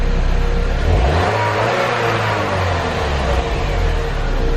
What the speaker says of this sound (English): Start it up. A little weird startup, but it's idling fine. Give it a little bit of rev,